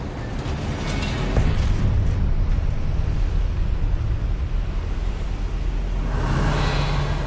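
Magical Revelio spell from the Hogwarts Legacy game, a sustained airy whoosh that swells in and holds steadily for several seconds, then brightens with a shimmering rise near the end, with no voice over it.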